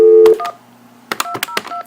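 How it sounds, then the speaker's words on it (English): Telephone number dialed on a keypad: a single DTMF tone, a short pause, then a quick run of several clear touch-tone beeps in irregular rhythm, close and loud, with no talking. "Let's give him a call and leave him a voicemail."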